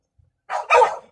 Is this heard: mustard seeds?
no